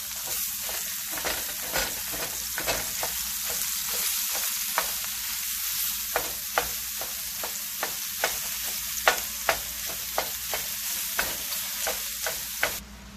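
Chorizo fries with a steady sizzle in a cast-iron skillet while a utensil scrapes and taps the pan in regular strokes, breaking it up.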